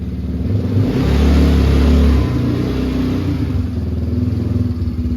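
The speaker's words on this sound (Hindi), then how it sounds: "आवाज देखो दोस्तों, इसकी आवाज हायाबुसा वाली जो यार आवाज है वो यार देखो क्या बढ़िया है।" A Taiwan-made ATV quad bike engine revs loudly and close by, swelling to a peak in the first couple of seconds, then settling into a steady, throaty idle-like drone with no talking.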